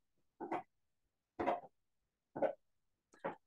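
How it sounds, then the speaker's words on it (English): Dog gnawing on a bone some distance away, four separate short, muffled crunching bursts spaced about a second apart, faint against an otherwise quiet room with no talking. "You may hear my dog eating the bone in the distance,"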